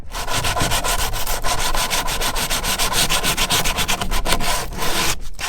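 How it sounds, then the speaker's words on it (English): Rhythmic back-and-forth rasping of 80 grit sandpaper on wood for a DIY kayak crate, steady close strokes with no talking. "The benefit of using 80 grit sandpaper is that it'll take a lot more off."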